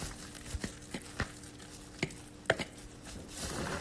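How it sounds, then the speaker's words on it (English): A fork mashes and stirs guacamole, giving soft, irregular squishing taps and scrapes at close range, fairly quiet, with no talking. "we're going to get into the real ASMR part, which is where we get this fork and we're just going to"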